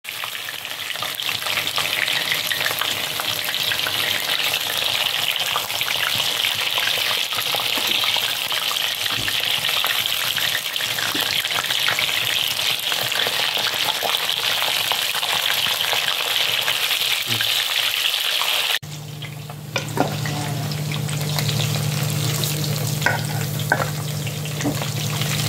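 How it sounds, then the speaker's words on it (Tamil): Chicken leg pieces fry in a pan with a steady, loud sizzle and crackle that keeps up throughout, with occasional stirring; partway through, the sizzle drops briefly and then resumes with a lower hum beneath it. "சூப்பரான சிக்கன் ஃப்ரை ரெடி."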